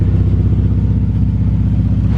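A K20-swapped Honda Civic EF with a titanium exhaust idles on a dyno, a loud, steady, throbbing engine note with a rapid even pulse and no voices.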